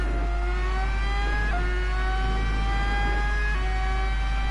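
In Gran Turismo Sport, a race car brakes heavily while its engine revs, producing a continuous close whine whose pitch drops and climbs in steps through downshifts.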